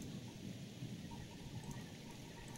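Heavy rain and rolling thunder from a Halloween horror video game form a quiet, steady hiss of rainfall with a low rumbling undertone, continuous and distant-sounding, with no voices.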